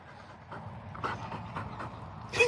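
A dog pants quickly after a game of Frisbee, with short, rhythmic breaths close by, a small whimper-like note near the end, and no talking.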